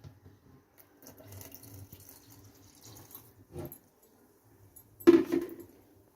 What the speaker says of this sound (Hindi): तो अब हम इसमें बाकी का दूध शामिल करेंगे।